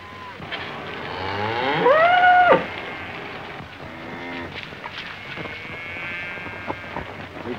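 Cattle moo on a ranch, one long loud bellow rising and falling near the middle, with fainter lowing calls afterward over a soft outdoor background.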